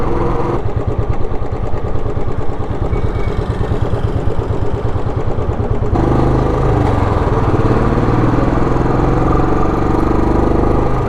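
A motorbike engine drones steadily at cruising speed on a hot highway road trip, loud and continuous with rushing wind, and no voices.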